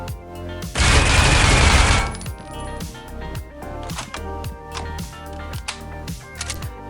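Rapid automatic gunfire in the Critical Ops shooter, fired through filing cabinets on the Bureau map: a dense, loud burst of shots followed by a steady run of separate sharp reports, with no voices.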